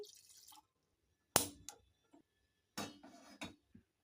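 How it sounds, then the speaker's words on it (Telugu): Water splashes into a pot for masala chai in a few short, close bursts separated by silent pauses, with no talk. "ఈ గిన్నెలో ఒక చాయ్ గ్లాస్ వాటర్ యాడ్ చేయాలి"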